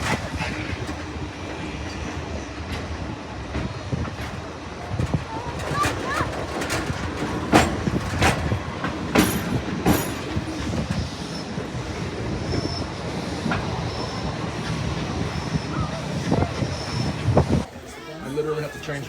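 A heritage steam train at the Thirlmere Festival of Steam rolls along, heard from inside a carriage with the window open, a constant rumble with clattering wheel clicks and wind rush throughout.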